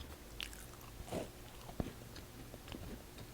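Quiet eating of a peppery potato dish, with a few soft, close bites and moist chewing sounds scattered over a few seconds, no talking.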